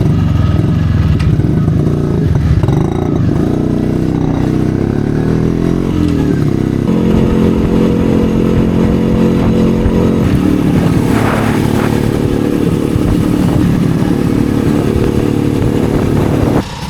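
A Yezdi Roadking motorcycle being ridden, its engine giving a loud, steady drone with a throbbing beat that shifts pitch partway through, heard close up along with wind noise.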